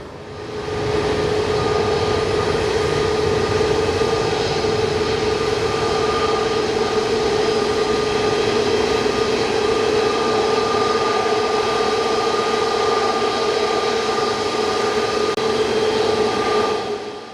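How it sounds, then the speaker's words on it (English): A Boeing 737 MAX 8 airliner at Mumbai airport, bound for Lucknow, gives a steady, loud jet roar that holds evenly throughout with a sustained whine on top, no voices. "This MAX 8 is on its way from Mumbai to Lucknow, a quick 1 hour and 51 minutes flight."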